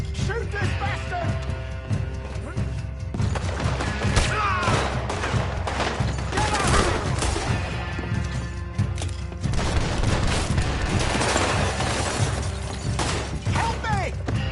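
Gunfire in Red Dead Redemption 2 during a chaotic fight, scattered loud shots and clattering impacts running throughout, dense with game noise and voices talking over the action.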